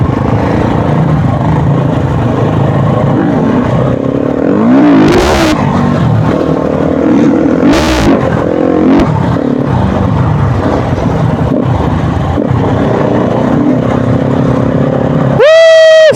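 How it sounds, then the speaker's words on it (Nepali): A motorbike engine revs and drones close by while it is ridden, loud and continuous with rising and falling pitch sweeps and a sharp climbing rev at the end. "आनन्दले उड्ने रहेछ दाइको बाइक त मस्त"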